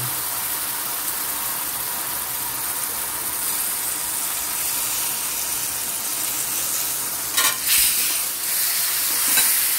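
Semolina roasts in a pan with two bananas being added, a steady loud sizzle and scraping stir running throughout with no talk.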